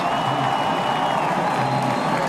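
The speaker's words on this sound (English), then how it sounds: "Thumbs going up from all the crew members, and the crowd roars." Crowd roaring at a Daytona stock car race after a crash, a steady, loud wash of cheering and applause from the grandstands with a faint tone running through it.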